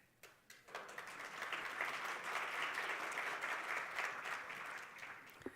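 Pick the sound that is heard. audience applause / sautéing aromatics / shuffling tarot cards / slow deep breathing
audience applause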